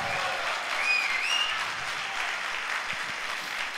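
Many hands of a church congregation applaud continuously in a dense, steady clatter at a fairly loud level, with a brief high cheer rising briefly above it.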